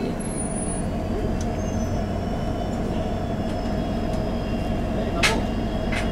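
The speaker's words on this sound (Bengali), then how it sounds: "ট্রেনটা আসছে, তোমাদেরকে দেখাচ্ছি। ট্রেনটাও প্রচুর আস্তে আস্তে আসছে।" A train creeps slowly along a railway line in fog, giving a steady low rumble with a faint sustained hum above it and no clear horn.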